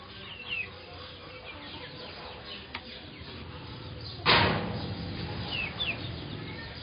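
Chickens clucking on a small family farm at feeding time, scattered calls at a moderate distance, with a sharp knock or door bang partway through.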